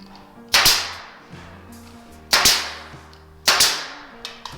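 Three sharp nail gun shots fasten trim on a double French door installation, each a loud near crack spaced about two seconds apart, with a faint tail after the last.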